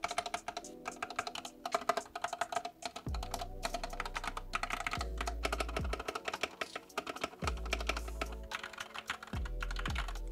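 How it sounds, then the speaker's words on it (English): Steady, close typing on an XVX M61 mechanical keyboard with factory lubed switches, set directly on a desk without a mousepad, with rapid clacks and periodic deeper thuds from larger keys. "Let's check out the factory lube switches with no mousepad."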